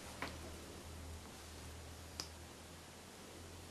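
A mascara tube is twisted open, giving two small, faint clicks a couple of seconds apart over a quiet room hum.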